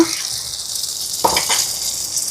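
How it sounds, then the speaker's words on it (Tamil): Food sizzles steadily in hot oil in a pan, a close, continuous frying hiss with a brief louder crackle partway through. "இதே மாதிரி மீதத்தையும் பொறிச்சு எடுப்போமா"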